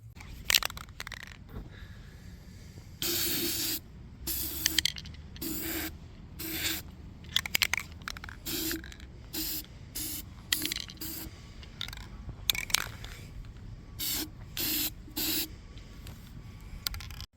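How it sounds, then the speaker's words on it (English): Frosted glass spray paint is sprayed inside a recycled light cover in repeated short hissing bursts, each about half a second long, broken by brief pauses and faint rattling, with no talking. "I'm going to spray the inside of this"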